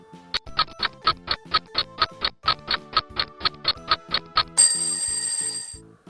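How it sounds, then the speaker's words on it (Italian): A small bell dings over and over in a quick, even rhythm, about fourteen bright strikes, then gives way to a hissy electronic chime. "Belle la campane di Manu!"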